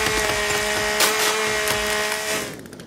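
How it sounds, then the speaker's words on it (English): Chainsaw cutting through wood in The Forest survival game, a loud continuous motor whine with steady harmonics that bites harder around the middle, then cuts out abruptly near the end. "I figured a chainsaw would have to do."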